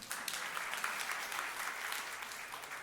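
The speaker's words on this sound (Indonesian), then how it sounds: "Kok ada yang tepuk tangan?" A church congregation breaks into steady applause during a sermon, a dense wash of many hands clapping at a fairly distant, low level that holds evenly throughout.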